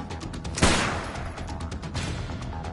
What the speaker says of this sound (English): he's firing gas with a P90 SMG